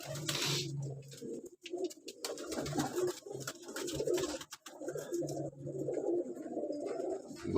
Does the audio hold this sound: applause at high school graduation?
no